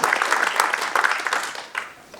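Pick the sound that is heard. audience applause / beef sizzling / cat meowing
audience applause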